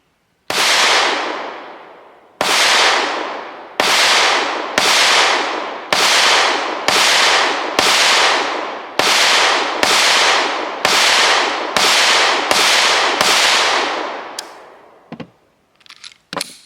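A Canik Mete MC9 Prime pistol fired with an MC9L magazine lets off about thirteen loud, sharp shots in an even, deliberate cadence, each with a short ringing decay, followed by a few faint handling clicks.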